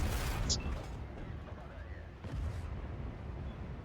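An enemy tank shell hitting the player's tank in a World of Tanks battle with the Object 430, a dull heavy boom near the start and another thud midway, under low engine rumble and some talking.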